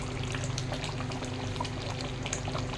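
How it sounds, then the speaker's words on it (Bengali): Koi fish bubbling in mustard oil, a close, continuous sizzle and simmer with a dense crackle of bubbles throughout. "এগুলো আরও ফুটবে, আর কত তেল বার হবে"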